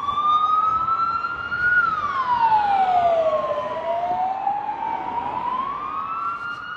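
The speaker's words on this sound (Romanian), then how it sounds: "Ia, stai că trec acum salvările." An ambulance and a police car pass with sirens wailing on a city street, the rising and falling tones sweeping loudly past and shifting in pitch, with road traffic underneath.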